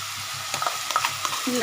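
Gobindobhog rice and garam masala frying in a pan while being stirred, a close, steady sizzle broken by quick scraping and clinking strokes of the spoon, no voices.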